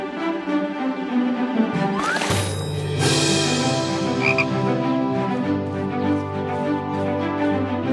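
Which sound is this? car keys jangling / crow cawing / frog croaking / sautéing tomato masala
frog croaking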